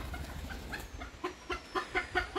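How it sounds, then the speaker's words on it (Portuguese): A Sebright-type ornamental chicken with short legs and a small crest clucks in a pen, a run of short, fairly close clucks that quicken toward the end, heard alone over faint background noise. "A outra galinha dessa baia é essa Sebright modelada"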